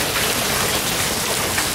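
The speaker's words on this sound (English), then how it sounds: "Okay, we got ourselves some hail." Hail pelting skylights and a roof during a storm, a dense continuous patter of hard hits close by with no voices.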